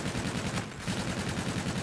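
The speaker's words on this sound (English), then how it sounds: "I put a bullet in Kira" Rapid gunfire from an online shooter game crackles in a dense, continuous burst, loud and steady with only a brief dip partway through.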